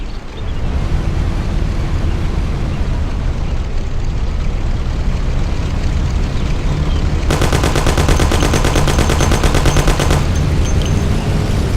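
A Thompson submachine gun fires one rapid, sustained burst lasting about three seconds, loud and close, over a dense, roaring background of rumbling noise.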